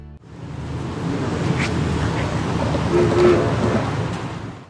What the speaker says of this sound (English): I caught the locomotive for the first train of the day coming to couple to her train